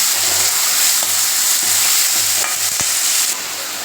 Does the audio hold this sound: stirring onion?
yes